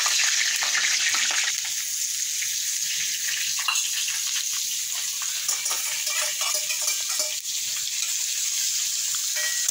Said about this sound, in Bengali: মাংস করার জন্য প্রথমে তেল দেওয়া হলো, তারপর গোটা গরম মশলা দিয়ে দিলাম